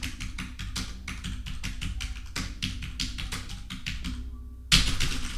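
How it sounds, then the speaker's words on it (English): Fast, dense keystrokes on a mechanical keyboard rattle along in a steady clacking stream, pausing briefly before a sharper burst of louder key hits resumes near the end. "unless you type like this"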